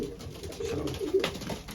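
Racing pigeons coo softly nearby in a loft, a low, throaty, rolling call repeated in short pulses.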